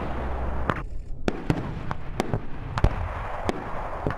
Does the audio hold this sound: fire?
yes